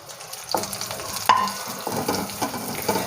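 Masala eggplant sizzling in a pan while being stirred, with close spoon scrapes and knocks in an uneven rhythm over a soft frying hiss, no voices.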